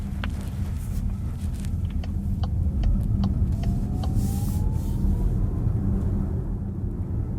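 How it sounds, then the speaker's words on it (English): A seat belt in a 2024 Skoda Kodiaq iV plug-in hybrid tightens as driving begins, a motorized whine rising steadily in pitch over loud, constant cabin and road rumble. "the seat belt also tightens when I start driving"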